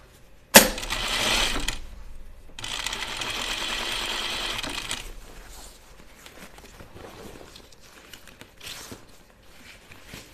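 A domestic sewing machine stitches elastic into the waistband of a pair of slacks, starting with a sharp clunk, then running in two steady whirring bursts before settling into quieter handling and soft clicks.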